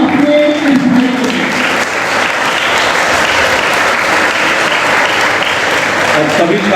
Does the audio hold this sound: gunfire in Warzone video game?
no